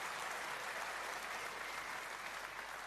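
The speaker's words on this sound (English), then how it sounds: "Well, a terrific round of applause" Crowd applause in the arena at a 2004 Masters snooker match, a dense, even patter of many hands clapping continuously, heard from a distance and fairly soft, with no talk over it.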